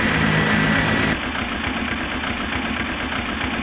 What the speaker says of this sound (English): Okay to start engines.